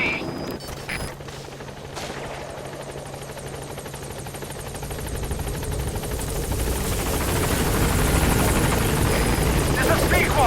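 A support helicopter in the Metal Gear Solid V video game approaches a landing zone, its rotor and engine roar swelling steadily louder over about ten seconds under a radio voice, with faint gunfire crackling beneath.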